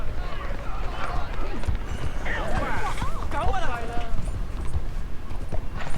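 Horse hooves clip-clop steadily in a video game, a running gait heard near and moderately loud, mixed with game sounds and brief tonal calls, with no talk over it.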